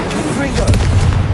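A Confringo fire spell exploding in Hogwarts Legacy, a short booming blast with a heavy low-end thump and crackle lasting about a second, loud and close.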